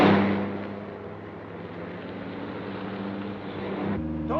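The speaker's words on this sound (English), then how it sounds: "There's a car following us." Steady engine drone of a car in a 1940s setting, with a continuous low hum and broad noise that holds throughout, ending in a brief shift near the close.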